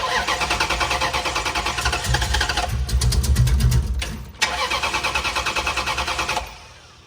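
A truck engine under test, with the fuel pump jumped and the cam sensor unplugged, cranks with rapid rhythmic chugging, catches and runs roughly with a few revs, stumbles briefly, then cranks again before cutting off, loud and close.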